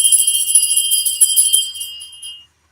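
A bell sound effect rings with bright, high, shimmering metallic tones that repeat rapidly, then fade and cut off abruptly after about two and a half seconds.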